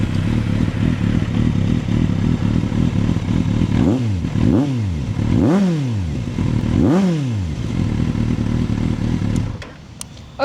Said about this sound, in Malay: kat sini saya nak belanjakan sikit motor Z8 ni dengan exhaust Akrapovic macam mana bunyi